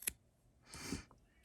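Scissors snip trimmed yarn ends while crocheting a sunflower, a quick click followed by a short soft cutting rasp, close and quiet.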